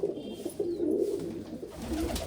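Golden pigeons coo softly and close by, a low throaty rolling call repeated a few times over faint background noise.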